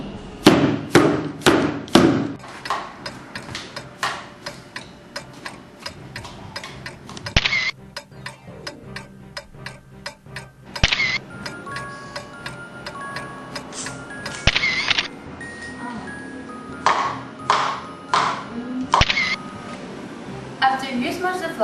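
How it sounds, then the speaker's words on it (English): Hammer smashing flowers to extract pigment, a series of sharp, close taps and thuds in irregular bursts, some rapid clusters and some single strikes, with occasional talking between the blows. "the first step is to get the hammer and smash the flowers to get the pigments"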